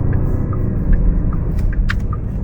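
A Porsche Panamera GTS on the move gives off a steady low engine rumble and road hum, with a few faint higher squeaks or clicks, heard from inside with no talking.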